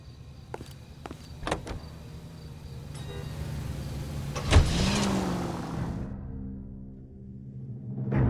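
A car in the L.A. Noire video game, its engine a low steady drone that swells as it gets under way, with a few clicks and door-like knocks early on and a brief thump midway.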